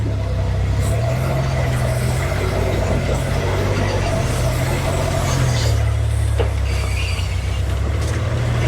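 An off-road truck turns in place on trail terrain using its cutting brakes, the engine's low drone holding steady and shifting pitch midway, close and continuous with no talk.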